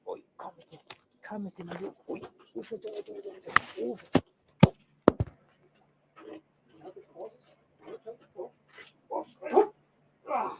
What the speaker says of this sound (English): if you haven't met my dog before